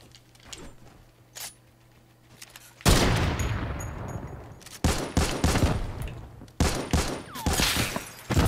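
Gunfire in Fortnite played on Nintendo Switch, a couple of faint shots followed by loud sustained bursts of rapid automatic fire with short pauses between volleys.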